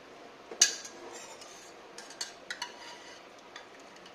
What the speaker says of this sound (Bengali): এখন এগুলোকে আমি একটি বোলে তুলে নিচ্ছি